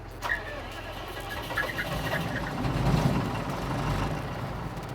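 A street sweeper's back engine idles steadily with a low continuous rumble, a brief tonal whine near the start, and a slight swell midway, with no voices.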